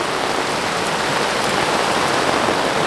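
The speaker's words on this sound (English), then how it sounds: "It's raining a lot." Heavy rain pours steadily at a creekside campsite at Frog Bayou, a dense, close, unbroken hiss of drops drumming on surfaces with no voices.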